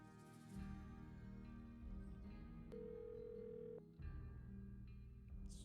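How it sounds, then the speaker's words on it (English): Repeating telephone ring tone from the Nancy Drew game Secret of the Scarlet Hand, a steady electronic ring with a brief pause between tones, playing alone under faint background music. "Still just ringing."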